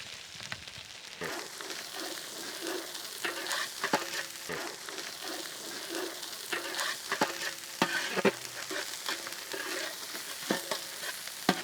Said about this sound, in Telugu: వెల్లుల్లి పేస్ట్ నూనెలో చక్కగా వేగాక దీంట్లోనే మనం పచ్చిమిర్చి యాడ్ చేద్దాం. వెంటనే దీంట్లో మనం కరివేపాకు కూడా యాడ్ చేద్దాం.